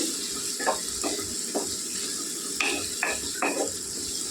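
A spoon stirs a potato and chana dal curry in a pan, making six or seven distinct scraping strokes spaced about half a second apart over a steady, gentle sizzle, close and moderately loud with no voices.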